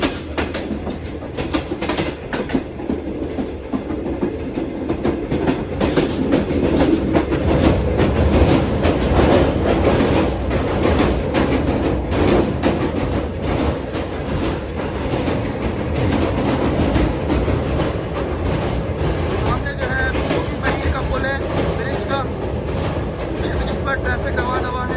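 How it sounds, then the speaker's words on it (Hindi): Shalimar Express passenger train rolling onto the Malir railway bridge on the Multan to Karachi route, a steady loud rumble with rhythmic clickety-clack of wheels over rails throughout, with faint voices under it. "और अब जो है मलीर ब्रिज पर हमारी ट्रेन दाखिल होने वाली है"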